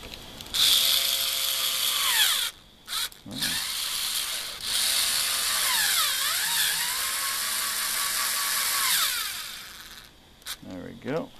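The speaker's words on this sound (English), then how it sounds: "And I'll drive a screw in." A small powered screwdriver drives a screw into a servo horn, a high whirring buzz that rises and falls in pitch across several long runs with brief pauses between them.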